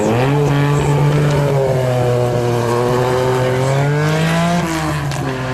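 A Lancia Group B rally car with a short, light body and a Ferrari Dino V6 engine drives past at a pageant of power. Its engine is loud and strained, holding a steady note that climbs and dips briefly, with no talk.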